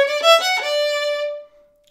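A violin plays a short phrase from a sea shanty, a few quick sixteenth notes that settle on one long held tone, then fades to silence.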